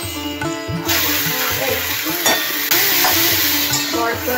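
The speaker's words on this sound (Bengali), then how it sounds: "এরপর আমি মিক্স ডালটা দিয়ে দেবো।" Mixed dal fries and sizzles in a pan, with a steady loud crackle and repeated scraping as it is stirred, close up and continuous throughout.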